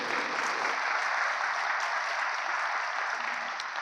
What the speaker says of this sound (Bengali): তালি বাজাও, হাততালি দিও।